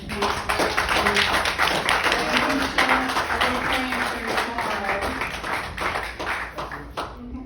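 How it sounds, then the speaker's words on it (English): A small audience at a constitution discussion group claps for a guest speaker: brisk, closely packed handclaps start loud and gradually thin and fade toward the end. "everybody give him a round of applause"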